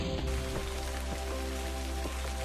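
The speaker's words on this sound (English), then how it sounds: "we gotta make it rain." Steady rain falls in a VR nature game, a dense continuous patter with faint soft ticks, heard alone without talk.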